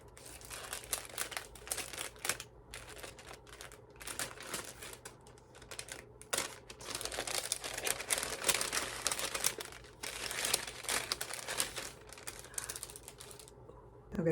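Plastic and paper packaging crinkled and rustled while a Beetlejuice-themed mystery yarn box is unpacked, continuous close crackling that swells and fades with no speech.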